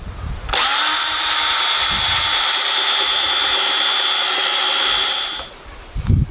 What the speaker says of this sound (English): so I'm going to drill a series of holes.